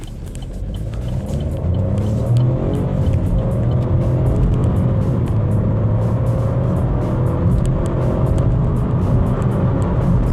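A Chevrolet Onix Plus Midnight accelerates hard, its engine note climbing through the gears in a loud, close rising drone over a deep rumble that holds steady to the end.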